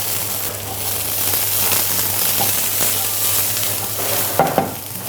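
Onions and split dried red chillies fry in a pan for dragon chicken, giving a steady broad sizzle with stirring scrapes and a couple of sharp pops near the end.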